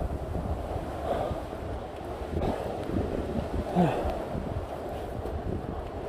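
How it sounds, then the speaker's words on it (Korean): Wind roars and buffets against the microphone in a continuous low rumble, swelling in gusts, with no clear speech. "바람 소리"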